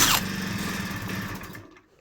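Engine of a barn-find Magnum motorcycle just coaxed into starting, running briefly with a buzzy, uneven idle before dying away into quiet; no talk over it.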